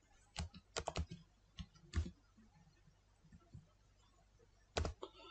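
Keys clack on a computer keyboard in quick, irregular bursts of a few strokes at a time with short pauses between, close and fairly quiet, with no voices.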